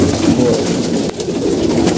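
Pigeons coo continuously at a feeding spot, a dense, low, burbling chorus of several birds close by with no pause and no talking.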